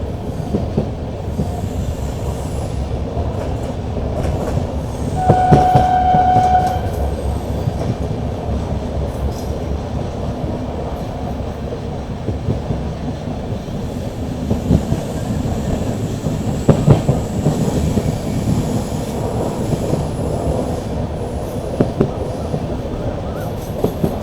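A passenger train pulls into Ernakulam Town station in Kerala, a loud steady rumble of rolling wagons with clattering wheels and a brief high squeal of braking wheels partway through, heard from on board.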